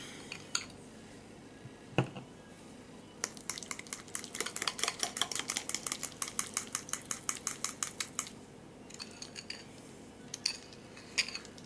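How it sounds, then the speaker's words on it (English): A fork works as a makeshift whisk, beating through an emulsified sugar scrub mixture in rapid, even clinks and scrapes against the bowl, with a few isolated taps before and after the steady burst. "Use a fork as cheap little whisk for right now, just to break some stuff up."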